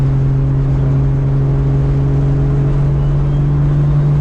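A MKIV Toyota Supra making well over 1,000 horsepower heard from inside during a ride, with a loud, steady droning engine tone and turbo whir sustained without pause, and no voices.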